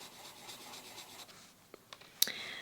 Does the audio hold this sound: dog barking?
no